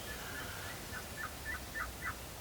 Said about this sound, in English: Sounds like a box call.